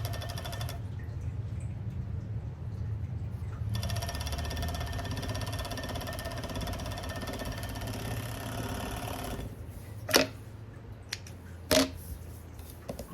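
Serger machine stitching trim onto the edges of flannel shirt fabric, a fast, even mechanical chatter running steadily at close range for several seconds, then quieter handling with two sharp clicks near the end.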